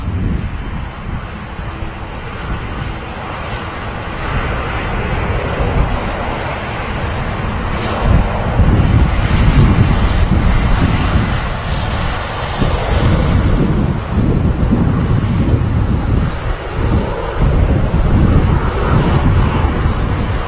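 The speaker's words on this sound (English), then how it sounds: "Lufthansa A320 in the new scheme." Lufthansa Airbus A320 airliner at Manchester Airport, a loud continuous jet engine roar with buffeting wind noise across the microphone, swelling slightly louder midway and holding steady with no talking.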